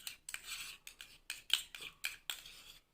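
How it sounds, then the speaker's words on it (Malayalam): A spoon stirring a small batch of homemade lip balm made from beetroot juice and Vaseline, producing about ten quick, close scraping strokes in an uneven rhythm against the container. "നമ്മളായിട്ട് ഇനി വീണ്ടും മിക്സ് ചെയ്യണം നന്നായിട്ട്."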